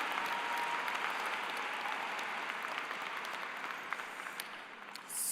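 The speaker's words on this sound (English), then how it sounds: "Can we please give them all a round of applause?" Steady applause from a high school graduation audience honoring teachers, a dense, even wash of many hands clapping at a distance that eases slightly toward the end.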